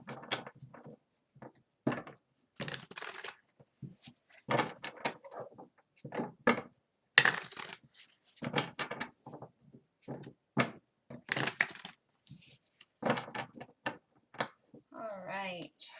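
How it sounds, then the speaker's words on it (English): Tarot cards being shuffled by hand during a personal reading: quiet, irregular bursts of papery riffling and tapping separated by short pauses, with a voice briefly heard near the end. "I'm going to shuffle these real quick"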